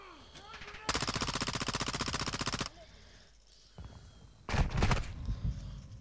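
Gunfire in the 2022 video game Call of Duty: Modern Warfare 2: a loud sustained burst of rapid automatic fire lasting about two seconds, then a quieter gap and a second short, heavy cluster of shots with explosive thuds.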